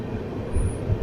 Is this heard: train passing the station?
yes